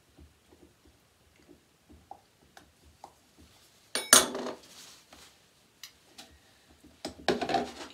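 A utensil stirs True Lilac fragrance oil into cold process soap batter at medium trace in a mixing container, giving sparse light clinks and taps and two short louder bursts of scraping.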